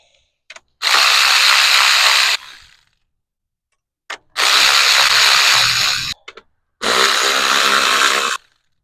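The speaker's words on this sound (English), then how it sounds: "I always break these loose before I use the automatic ratcheting." Automatic ratchet loosening a fitting on a 2022 Subaru WRX while fitting an oil pressure gauge: three separate bursts of high whirring, each about two seconds long, loud and close with silence between them.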